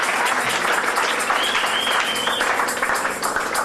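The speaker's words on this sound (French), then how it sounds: "et acclamez très fort le Seigneur." A worship congregation applauds loudly and steadily throughout, a dense wash of clapping from a large crowd in a church service, with faint voices mixed in.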